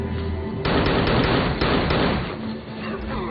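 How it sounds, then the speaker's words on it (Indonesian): A rapid burst of pistol gunshots in a film action scene: sharp cracking reports fire in quick succession over a dense, loud roar, then fade slightly toward the end. "Dia pun melihat pistol. Pada akhirnya dia mulai menembaki lelaki berbadan besar tersebut."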